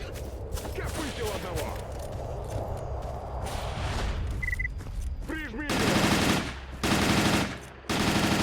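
Automatic gunfire in the game STALKER: Old World Addon, with scattered shots early on, then loud, sustained bursts of rapid fire near the end, broken by short pauses and set against background game ambience.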